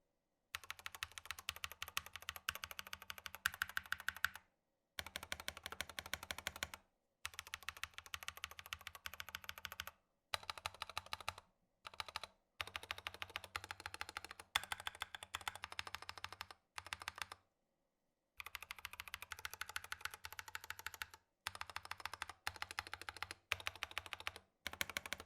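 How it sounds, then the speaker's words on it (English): Rapid clicking of Keychron K8 mechanical keyboard keys, including longer stabilized keys, typed in steady bursts separated by brief pauses, close and crisp, with no talking. "quick sound test for you so you guys can hear the difference between some of the longer keys with the stabilizers"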